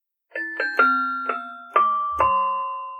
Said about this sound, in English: like the glockenspiel.